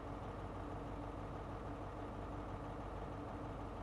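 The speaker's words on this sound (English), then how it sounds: "just idling on the single bank of the engine" An HST power car with an MTU diesel engine idling on a single bank in Train Simulator Classic, a steady low drone that stays constant and fairly faint, with no talking.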